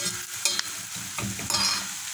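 Butter melts and sizzles in a pot while being stirred, making a soft continuous frying hiss with scraping stir strokes close up, no talk.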